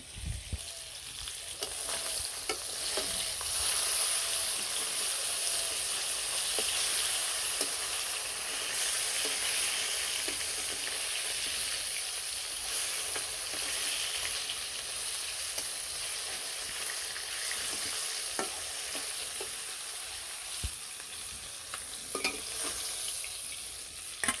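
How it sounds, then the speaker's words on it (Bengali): Fish fry in oil with a long, even sizzle and scattered pops and crackles, plus occasional soft stirring knocks, fairly quiet and continuous with no voices. "মাছগুলো ভাজা হয়ে গেছে নামিয়ে নিই"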